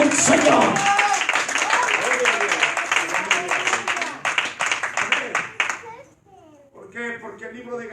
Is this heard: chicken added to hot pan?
no